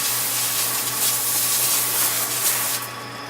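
A steady, close spray of water from a hose hisses continuously for a few seconds while cleaning a Minsep roller mill pulverizer, easing off slightly at the end.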